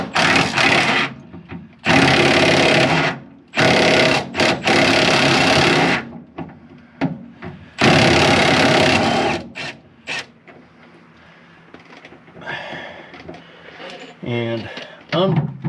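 An impact wrench or ratchet with a 5/8 socket unbolts the rear differential bolts, sounding as several loud, buzzing bursts of a few seconds each, separated by pauses and followed by quieter clinks and handling noises.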